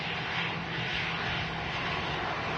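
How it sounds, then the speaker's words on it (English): An easyJet airliner arriving at Manchester Airport from Malaga, heard as a steady, loud broadband jet roar that holds evenly throughout, with no talk. "This easyJet A380 coming in from Malaga in Costa del Sol"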